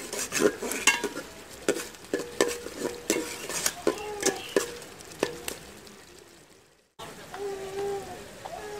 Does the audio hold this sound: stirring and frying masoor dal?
yes